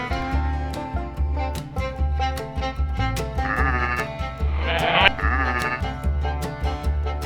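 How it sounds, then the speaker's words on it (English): Sheep bleat in short bursts over a steady rhythmic musical backing, the bleats standing out clearly near the middle of the clip. "Sheep, sheep,"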